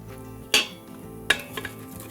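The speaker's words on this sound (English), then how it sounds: "And give it a little stir." A spoon stirs spinach dal ingredients inside an Instant Pot, giving two sharp metallic clinks against the pot amid soft scraping, close and fairly quiet.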